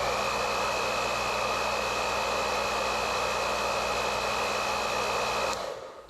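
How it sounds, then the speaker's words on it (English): A 1500-watt hair dryer, powered by a Bluetti EB3A portable power station, blows steadily on a low setting with a constant whooshing hum and faint whine, then switches off near the end. "This is a up to 1500 watt hairdryer"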